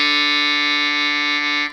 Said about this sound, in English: What you heard there is Yamaha's automatic vibrato